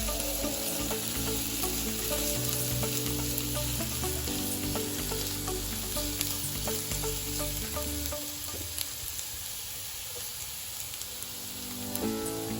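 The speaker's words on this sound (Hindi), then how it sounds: "सबको अच्छे से चला के भून लेते हैं गोल्डन होने तक" Garlic and green chillies fry in oil while being stirred, a dense continuous crackling sizzle with occasional light scrapes, easing slightly partway through.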